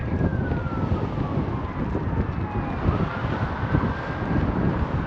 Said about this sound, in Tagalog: may ambulansya yata